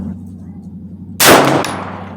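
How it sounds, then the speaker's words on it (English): A single sharp gunshot from a Daewoo DP51 9mm pistol at a shooting range, a loud close crack with a short ringing decay over a steady low background hum. "this is gonna be my first shot with K5"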